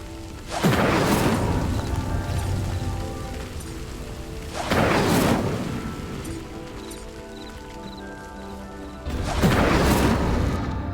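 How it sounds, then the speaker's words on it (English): Flaming pyres sinking after a fire spell in Hogwarts Legacy, heard as three heavy whooshing rumbles spaced a few seconds apart over a low steady crackling bed, loud and close. "The flames make the pyre sink."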